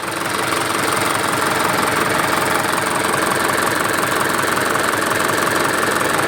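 Mitsubishi Canter truck with a 4M51 diesel engine, previously knocking, running steadily up close: a loud, dense, continuous mechanical rumble with fine rapid clatter and no voices.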